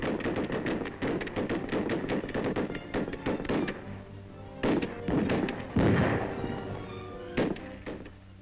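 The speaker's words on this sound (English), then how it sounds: "The rifle range at Bureau headquarters in Washington, and the targets might be gangsters. Intermittent firing." Rifle fire on the FBI headquarters range in Washington: intermittent sharp shots, some in quick bursts and others spaced apart, with gaps between volleys, heard fairly close and without talk.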